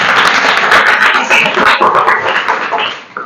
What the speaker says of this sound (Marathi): या दगासाठी सगळ्यांनी टाळ्या वाजवायचा आहे